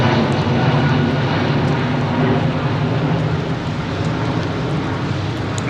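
Airliner jet engines rumble loud and deep at London Heathrow under a low cloud base, a continuous heavy roar that fills the air steadily with no voices over it.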